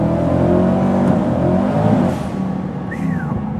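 A 1000-rear-wheel-horsepower C8 Corvette accelerates hard while losing traction, a loud sustained engine roar heard close from inside the car, easing off after a couple of seconds with a rising whine near the end.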